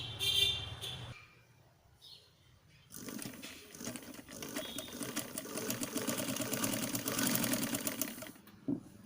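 A sewing machine stitches a blouse sleeve, a quiet close whirring run after a brief hum and pause, continuing steadily before stopping with a small click, with no talk.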